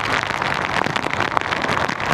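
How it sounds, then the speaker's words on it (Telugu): Rain falls on an empty beach, a close dense patter of drops with scattered sharper splashes and crackles, steady and fairly loud with no voices. "ఎవ్వరు లేరు, వర్షం పడుతుంది కదా బీచ్లో."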